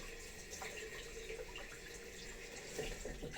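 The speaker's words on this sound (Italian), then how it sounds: "sciacquare con l'acqua fredda non mi dispiace, a dire la verità" Cold water running from a bathroom tap and splashing as a face is rinsed after shaving, a steady close hiss with brief splashy bursts.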